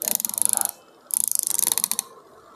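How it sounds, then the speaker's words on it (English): A small electric motor powered by a rechargeable zinc aluminium ion battery whirs in two rapid ticking bursts with a short gap between, close and fairly loud, with no talk. "So we can see the motor running fine."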